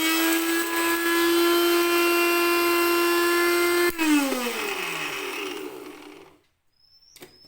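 A Dmart bullet mixie with only a single main power switch grinds ingredients to powder, a loud steady high whine that holds, then falls in pitch as the motor shuts off and spins down into near silence.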